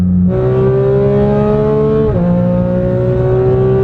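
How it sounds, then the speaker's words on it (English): Unsilenced supercar exhaust roaring under power on a race track, a loud, steady engine note that climbs in pitch, dips briefly with a gear change, then pulls on, close and continuous. "under power, this exhaust system is insane"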